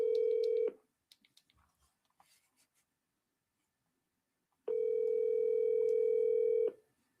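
A telephone dial tone sounds after a call disconnects, a steady loud tone that cuts off, followed by faint clicks and handling noises, then the same steady tone returns for about two seconds.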